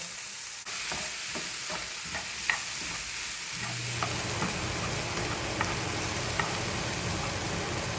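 Tomatoes sizzle and crackle in a hot pan on low heat with scraping stirs, and a steady low microwave-vent fan hum joins partway through.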